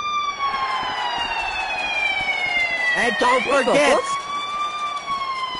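A wailing siren heralds a professional wrestling ambulance match for a world championship, its steady rising and falling tone running throughout and loud under an announcer's voice, with a brief burst of crowd or arena noise midway.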